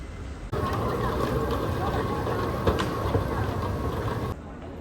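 Airport terminal shuttle train carrying passengers to the boarding gates, a steady rolling rumble and whine inside the car with a brief clunk partway through, starting and stopping abruptly.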